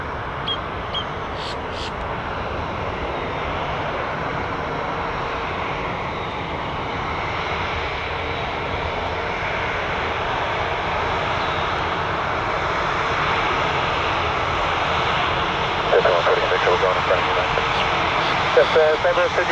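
A fixed-wing airplane takes off from runway 35 left at Orlando International Airport. Its engines make a sustained broad roar that swells slightly toward the end, heard clearly and at moderate distance.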